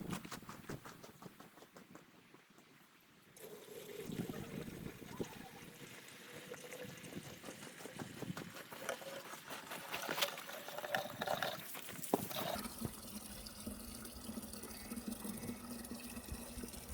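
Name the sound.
watering plants with a watering can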